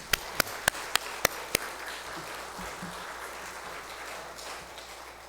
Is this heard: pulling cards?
no